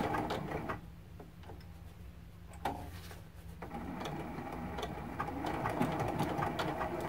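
A sewing machine runs steadily, stitching a straight seam through a T-shirt quilt. The hum stays close and even and is broken by a few short pauses and clicks.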